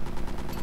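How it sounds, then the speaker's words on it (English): Cannon fire from a ship in the Ironwolf VR submarine game sounds as a dense, continuous rumble of heavy gunfire, with booming blasts running close together and loud throughout. "Give the old cannon a shot there."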